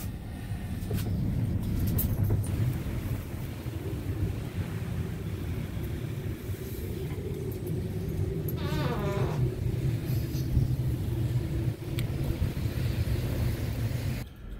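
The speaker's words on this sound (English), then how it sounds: "I've been in some heavy wind. This is pretty incredible." Heavy desert wind roars as a constant low rumble close to the microphone, steady and loud throughout, with brief gusty flutters.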